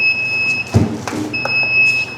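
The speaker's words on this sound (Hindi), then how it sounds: "हमारा टाइमिंग पूरा हो गया है, बजर बजने लगा है" A timer buzzer on an edible tea cup making machine sounds as a steady high electronic tone, cutting out briefly and returning, over clanks and knocks from the machine.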